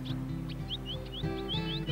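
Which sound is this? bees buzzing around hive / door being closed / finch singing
finch singing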